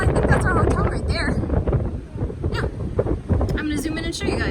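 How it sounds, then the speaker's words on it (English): Strong wind buffets the microphone atop the Pilgrim Monument in Provincetown, a loud, gusty low roar that nearly continuously covers a person speaking. "It is super windy."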